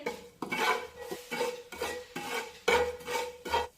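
Coarsely ground coriander and fennel sautéed in a pan for a matar kachori filling, with a spoon scraping and clinking through a run of steady stirring strokes, close and moderately loud, without speech.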